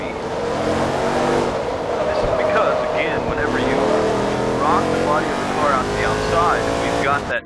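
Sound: race car cornering in Forza Motorsport 2 video game

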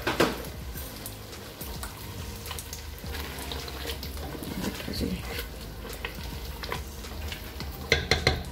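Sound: frying and stirring coriander in aloo baingan curry

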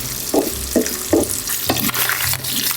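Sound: bacon frying in a pan

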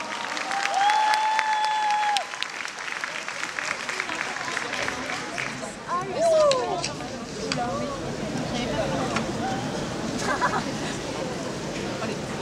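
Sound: audience applauding cosplayers

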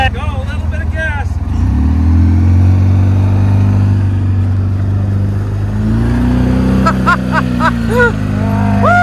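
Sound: off-road rig engine revving while wheeling

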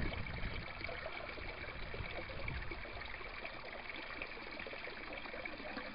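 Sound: aquaponics U-siphon starting to drain water

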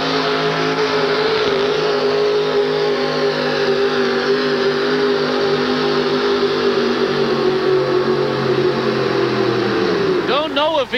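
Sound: pulling truck engine revving during a 1988 truck pull

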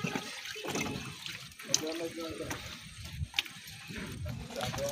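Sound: water poured on newly laid marble stones

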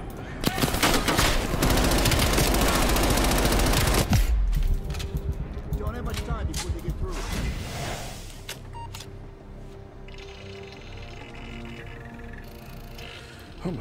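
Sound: hand cannon gunfire in video game Call of Duty Black Ops Cold War

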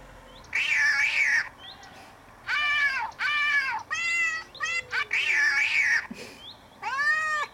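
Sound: cats meowing

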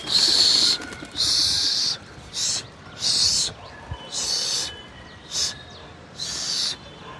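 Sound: pigeons being released to fly

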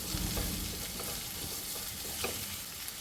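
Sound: chopped beans frying and being stirred with onions in a pan

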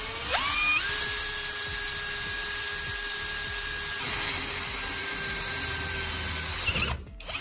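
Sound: step drill bit drilling through a stainless steel spoon

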